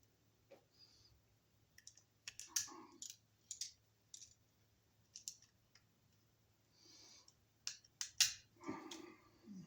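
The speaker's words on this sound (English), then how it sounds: "what we got to do is we have to take these screws off." Screws being backed out of an electrical switch box while wiring a double-gang box, a series of small sharp clicks and ticks in uneven bursts, close and fairly quiet over a low steady hum.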